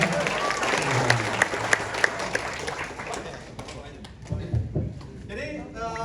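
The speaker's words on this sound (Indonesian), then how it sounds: "Jadi saya Kasih tepuk tangan dulu dong" An audience claps at a community volunteers' gathering, the applause spread and moderately loud with some sharper individual claps and crowd murmur mixed in.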